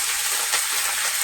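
Whole cumin seeds and grated ginger sizzle in hot oil in a kadai, a brief, steady bright hiss of frying close up.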